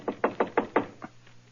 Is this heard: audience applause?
no